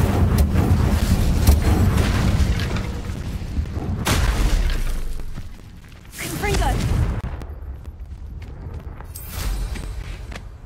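An Incendio fire spell cast in the game Hogwarts Legacy: a few loud whooshing bursts spaced several seconds apart over a dense, rumbling game background.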